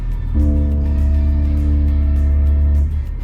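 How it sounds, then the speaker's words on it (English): A 2022 Ford Ranger Raptor descends off-road on trail control, its automated brakes putting out a loud, steady mechanical buzz that starts abruptly, holds for about two and a half seconds, then cuts off, over low engine rumble. "That's the sound of the brakes."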